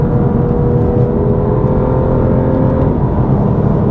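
A car driven hard through corners using left-foot braking, its engine a loud, steady whirring drone held under throttle throughout, with no talking.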